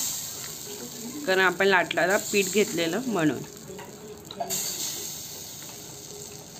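Jowar bhakri flatbread on a hot griddle, sprinkled with water, gives a steady sizzling hiss that runs through the whole stretch, with a person talking over it partway.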